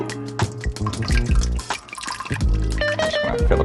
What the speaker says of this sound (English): time to strain out all of that grease and fat.